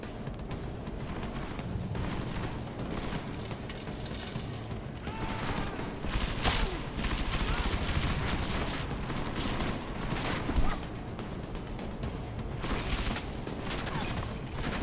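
Gunfire rings out in the video game Deus Ex: Mankind Divided, a dense, continuous battle din with repeated sharp shots and heavier booms across the whole stretch, fairly loud throughout.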